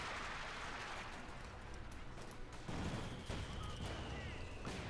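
Panther tank cannon fire in the World War II strategy game Company of Heroes 2, several booming shots with crackling battle gunfire, a heavy blast near the middle, dense and continuous.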